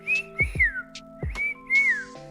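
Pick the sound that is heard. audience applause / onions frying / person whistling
person whistling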